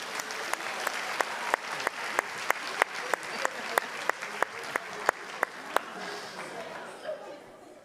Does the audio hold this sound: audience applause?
yes